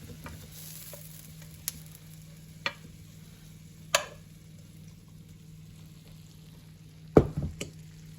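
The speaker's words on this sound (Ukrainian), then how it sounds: "На таку сковорідку три зубчика молодого чесничка. Перемішуємо і вжарюємо." Three cloves of young garlic fry quietly in a small pan, a faint low sizzle broken by a few sharp clicks and scrapes of stirring, with a louder clatter near the end.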